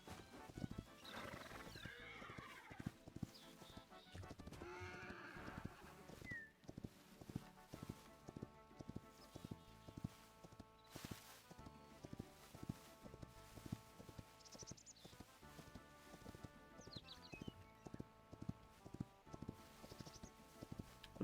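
Horses in the video game Hytale whinny several times over a steady run of hoof clip-clops and footsteps, fairly close, with light talk at times.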